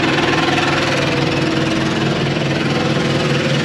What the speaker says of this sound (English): APU's running, so it's a little loud.